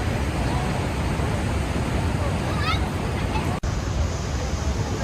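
A waterfall at Glacier National Park rushes in a loud, steady roar, where people jump off rocks into the water, with faint voices of a crowd mixed into the constant broadband wash.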